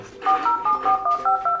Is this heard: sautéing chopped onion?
no